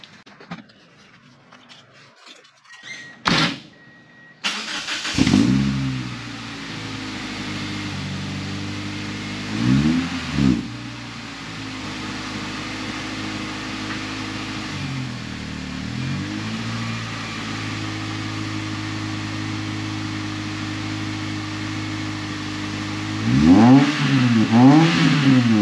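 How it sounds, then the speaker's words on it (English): A 2003 Pontiac Vibe GT with a Vibrant resonator fitted to its exhaust cranks and fires, then idles steadily with several rising and falling revs, close and loud, with a sharp burst of revving at the end. "All right, let's fire this thing up."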